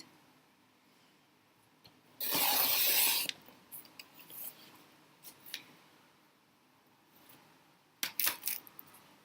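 A sharp, sliding swish of a blade slicing through paper, followed by light clicks and taps, then a brief second rasp near the end.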